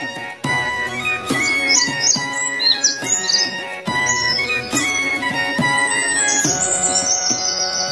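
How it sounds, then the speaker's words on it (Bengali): A dove calls from a tree in a string of short, high bird calls that sit on top of steady, loud children's music. "ঘুঘু পাখি ডাকছে গাছে"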